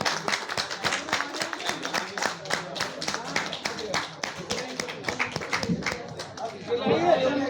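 Applause at a student award ceremony in Nainital, Uttarakhand, welcoming a student: a steady, dense patter of clapping hands that keeps going throughout, with crowd murmur underneath.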